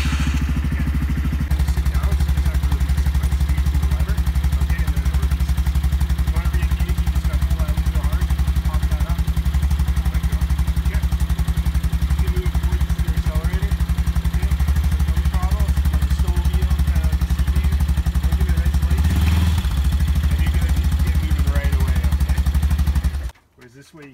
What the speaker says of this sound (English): And then to start the actual engine...